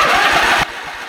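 A John Deere lawn mower engine runs loud and steady for about half a second, then drops abruptly to a lower, quieter idle, close by with no talking.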